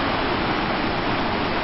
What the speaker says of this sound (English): the lower fall of the Yosemite finishes the tallest waterfall system in North America with a tremendous crash